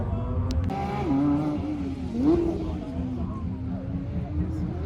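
A GT3 sports car rolls past at a road rally event in Switzerland, its engine drone rising and falling in pitch at moderate distance amid steady crowd and background noise.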